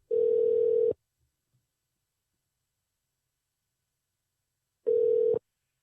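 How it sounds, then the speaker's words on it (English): A landline telephone tone sounds while a call is being placed, with two loud, steady single-pitch bursts: one lasting about a second at the start and a shorter one near the end, separated by silence. "Let's call Ted Schmaltzky, see if we can get him on the phone."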